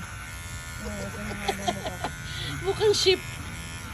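A portable electric shaver grooms a dog, giving a low, steady buzz throughout as someone talks over it with short bursts of speech.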